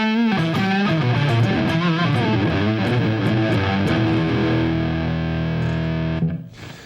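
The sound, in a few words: electric guitar with distortion and octave effect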